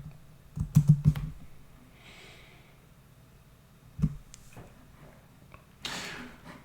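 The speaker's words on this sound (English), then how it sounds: "So we'll type Ron DeSantis" Typing on a computer keyboard, a few scattered clicks and taps, a short cluster early on then isolated keystrokes, soft and close in a quiet room.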